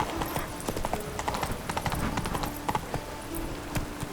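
Horse hooves clip-clop at a steady trotting rhythm in the video game The Witcher 3, close and continuous with faint game ambience underneath.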